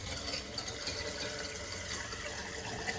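Cold water runs from a motorhome bathroom sink tap in a steady, close splashing stream that holds at an even level throughout, with no voices over it.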